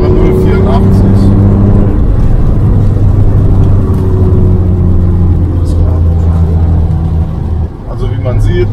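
Car engine on a test drive after a service, a loud steady low drone that rises and settles as it accelerates, close and continuous, with someone talking over it in German.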